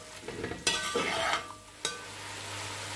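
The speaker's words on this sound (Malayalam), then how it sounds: "ഇത് നന്നായി ഇളക്കിയിട്ട് മൂടി വെച്ചിട്ട് നമുക്ക് വേവിച്ചെടുക്കാം." A spoon stirs a chicken pulao spice mix with coriander and pepper powder in a pot, making soft scraping and stirring noises with a couple of sharp clinks against the metal under a faint sizzle, close and quiet with no speech.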